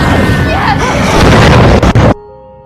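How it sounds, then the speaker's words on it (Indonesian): A burning sack explodes in a film scene, a loud, close boom with crackling debris that cuts off abruptly into near silence, with a faint tonal hum left behind. "Buntelan karung itu pun langsung meledak tak tersisa."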